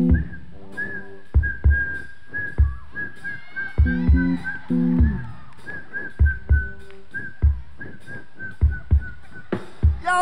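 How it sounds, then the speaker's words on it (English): A girl whistles a sustained high melody on stage at a church anniversary concert with a live band, over rhythmic drum hits and bright, steady notes, loud and close. "go whistle for us"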